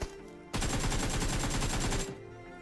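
Automatic gunfire in the mobile battle royale game BGMI, a single sustained rapid burst of about one and a half seconds, loud and close, with quieter game ambience before and after.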